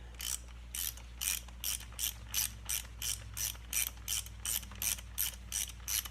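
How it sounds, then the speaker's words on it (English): Ratchet wrench tightening the filter housing on a Perkins 152 diesel engine from a Massey 231 tractor, a steady series of about a dozen sharp clicking bursts in even rhythm, close and clear with no talk. "I'm going to tighten up my filter housing."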